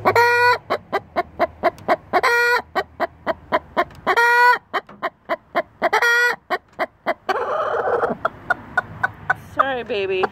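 A broody hen in a nest box clucks angrily in a rapid, close run of sharp clucks broken by several longer, drawn-out growling squawks, with no one talking.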